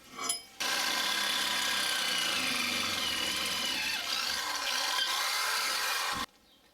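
A cheap power drill runs loudly and steadily for about six seconds with a harsh grinding hammer rattle during work separating a VR6 transmission, then cuts off abruptly.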